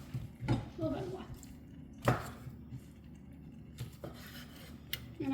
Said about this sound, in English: And I'm cutting it in half again, and then just chopping it in little pieces.